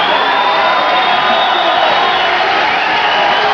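A boxing crowd roars through a fight between Jerome Coffee and Eddie Croft, a loud, sustained wash of cheering and shouting from a packed arena, unbroken and even throughout.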